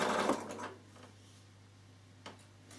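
Bernina sewing machine top stitching, a close, fast whirring run of stitches that stops after under a second, followed by quiet and one brief tap.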